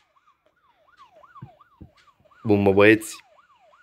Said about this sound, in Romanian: Am pornit sirenele